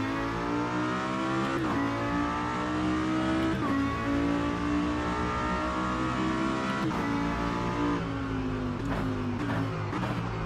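Race car engine in Automobilista 2 holding a steady high-pitched drone through a lap, with sharp gear-change dips around shifts and rising revs between them, loud and continuous without talk.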